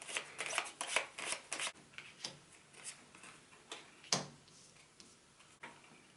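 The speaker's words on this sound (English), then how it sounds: "I just want to get some advice cards for you from this deck." Cards from an advice deck are shuffled and drawn, with quick papery riffles and clicks packed close at the start, then sparser flicks and a sharp snap near the end, close and quiet with no talking.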